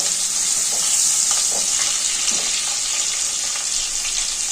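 Chopped onions fry in hot oil with green chillies, curry leaves and coriander, giving a steady, close hiss and sizzle with faint scattered pops and no talk.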